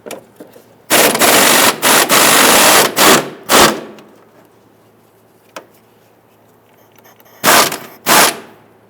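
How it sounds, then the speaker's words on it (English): Impact gun bursts loosening an 18mm upper control arm nut on a 2000-2006 Toyota Tundra front suspension, one long rattling burst then several shorter ones, loud and close, with quiet gaps between. "Using an 18mm socket, we want to go ahead and loosen the upper control arm nut here."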